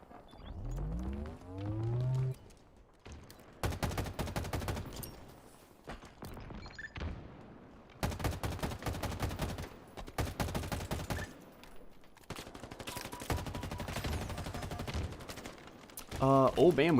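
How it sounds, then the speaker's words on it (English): Bursts of rapid automatic assault rifle fire in a video game, loud, arriving in several long volleys separated by short gaps, with a voice speaking near the start. "The assault rifle gives me free kills"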